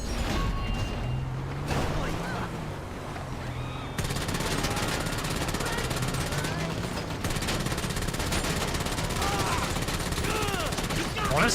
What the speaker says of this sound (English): Honestly, I love this tactical SMG.